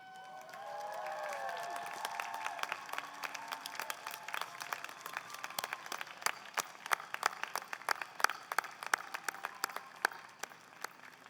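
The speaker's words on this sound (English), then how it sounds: "give them a great big thank you cheer." A graduation ceremony audience at a business school diploma ceremony claps and cheers in a large hall, starting with a swell of whoops and shouts that fade into sustained, scattered applause with sharp individual claps.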